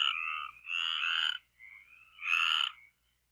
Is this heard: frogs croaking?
yes